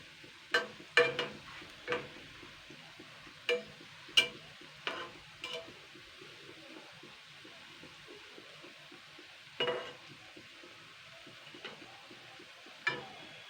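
Onion pakoras fry in hot oil with a soft, steady sizzle, broken by scattered sharp clinks and taps of a utensil turning them in the pan.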